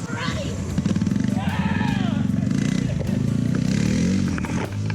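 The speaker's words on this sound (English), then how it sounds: "And that's how you get a four-wheeler start." A four-wheeler ATV engine catching and running on a farm, a pulsing motor rumble that rises in revs, close and loud, with people talking over it.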